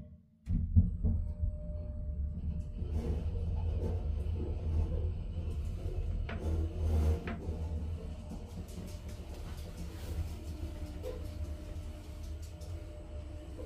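A shopping centre lift travelling down gives a steady low mechanical rumble and hum, continuous and moderately loud, with faint clicks over it and no talk.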